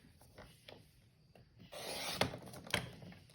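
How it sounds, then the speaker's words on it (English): A paper cutter trims the edge off a 4¼ by 5½ inch card, giving a soft rasping slide followed by two sharper close strokes near the end. "So I'm going to go back and put this through my cutter and just trim that edge right off."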